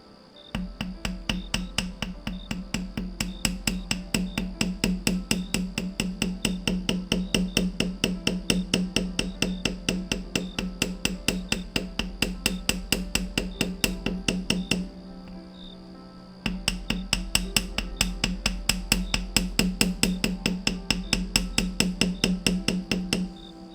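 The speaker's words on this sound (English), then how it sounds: "Hammer time." A metal practice jewelry pendant is struck with a hammer in quick, evenly spaced, ringing taps that run steadily for over twenty seconds, with one short pause in the middle.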